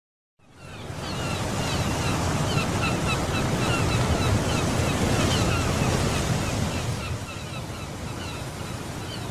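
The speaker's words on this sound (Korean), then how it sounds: "두 노인이 동해안의 바닷가에서 바다를 즐기고 있네요." Waves roll and break steadily on an East Sea beach in Korea, a continuous broad wash of surf with some wind buffeting, close and fairly loud throughout with no talking.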